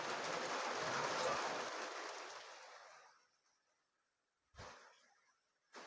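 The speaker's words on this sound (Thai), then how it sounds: "ฝนตกก็จะชุ่มฉ่ำเย็นสบายเลย ฟังเสียงฝนค่ะเพื่อนๆ" Steady rain falls at a house with plants, hissing loudly for a few seconds, then fading away to near quiet, broken by a couple of short thumps at the end.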